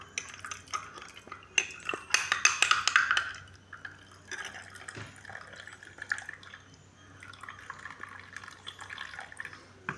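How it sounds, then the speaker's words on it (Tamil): A spoon stirs beaten egg into a cup of coffee, a flurry of bright clinks against the cup with a loud burst early on, then softer scraping swirls and a few more light taps. "கோப்பிக்குள்ளே விட்டு அப்படியே கலக்கி போட்டு"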